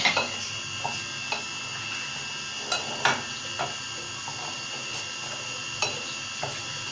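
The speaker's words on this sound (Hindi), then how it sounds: "ये हमने अच्छी तरह से मिक्स कर लिया।" Flour mixture for charsi chicken karahi being mixed in a bowl: scattered light clinks and taps of a utensil against the bowl, irregular and close, over a low steady kitchen hum with no talk.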